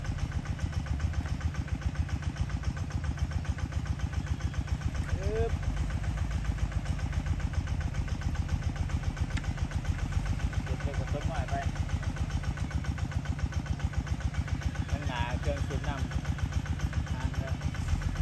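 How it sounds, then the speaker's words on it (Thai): A steady, rumbling tractor engine runs throughout at an even idle-like pace, fairly close, with faint voices and brief sounds over it. "รถไถรถไถครับ"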